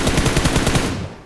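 Rapid automatic gunfire in a first-person shooter video game, a loud dense burst of evenly spaced shots for about a second that then trails off, with no talk over it.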